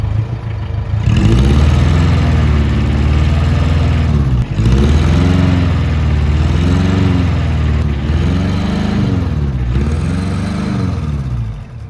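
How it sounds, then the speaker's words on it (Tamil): A fully restored Fiat Premier Padmini 137D with hand gear shift revs its engine repeatedly, the exhaust note swelling and dropping in several steady cycles, loud and close with no talking. "அப்படியே வண்டியோட எக்ஸாஸ்ட் நோட் காட்டுறேன்"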